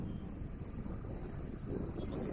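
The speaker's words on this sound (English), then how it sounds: "it's pretty windy" Strong wind buffeting the microphone on the shore of Kelleys Island, a low continuous rumble that fills the whole stretch with no speech.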